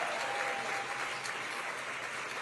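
Steady applause from a gala audience for the event staff, even and sustained across the moment, moderately distant with no voices over it.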